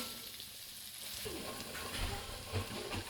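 Garlic sizzles gently in a pan over a lowered flame, a soft continuous frying hiss with faint stirring scrapes, close and fairly quiet.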